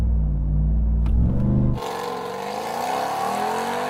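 A Hennessey Mammoth truck launches hard on a quarter-mile run: a loud, deep engine roar fills the first couple of seconds, then drops to a quieter, rising whir as the truck keeps accelerating. No voices are heard.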